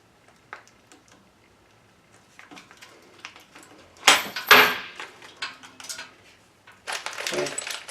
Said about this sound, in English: I cut that zip tie that has the fasteners and the keys.